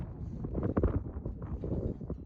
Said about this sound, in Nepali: हावा धेरै नै चलेको छ अति नै